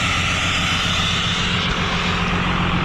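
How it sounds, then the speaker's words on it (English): Exhaust brake on a hotshot truck engaging at low idle, a loud, steady broadband engine roar with a heavy low rumble, continuous and close throughout with no voices. "Listen to that exhaust brake."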